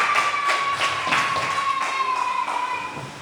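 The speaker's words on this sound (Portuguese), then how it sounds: "estrague uma linda salva de palmas para ele" A church congregation claps in a steady rhythm during a service, the regular strikes landing over a sustained musical tone and ambient room sound.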